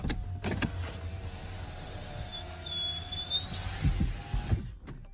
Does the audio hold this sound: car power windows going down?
yes